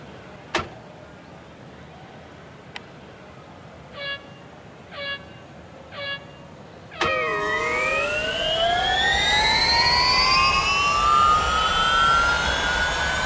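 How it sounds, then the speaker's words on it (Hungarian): Formula E Gen 3 show car in the Real Racing 3 video game, on a Berlin circuit: a few short beeps, then a loud, sustained electric whine that climbs steadily in pitch as the car accelerates. "Talán ennek az autónak egy fokkal jobb hangja van, mint a videó legelején lévő Formula 1-es versenyautónak"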